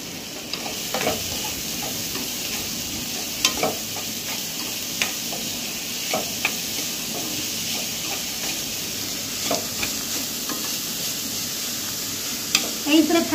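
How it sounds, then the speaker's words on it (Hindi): Onion, chili and garlic sizzle in an oiled pan for paneer momos, a steady hiss with occasional spatula stirs and light clinks over nearly fourteen seconds, up close, with no speech. "अब इसी के साथ में डालेंगे प्याज को, हल्का सा इसको नरम करना है हमको।"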